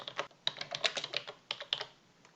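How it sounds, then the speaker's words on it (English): Quick bursts of typing on a computer keyboard while writing in a Word document, close and fairly quiet, with irregular clusters of key clicks separated by short pauses. "Simply double click your mouse and just start typing"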